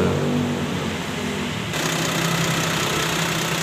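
A 1995 Toyota Land Cruiser VX 4x4 diesel idles steadily on its turbo timer after the key is switched off, a close, constant engine rumble that thickens slightly partway through.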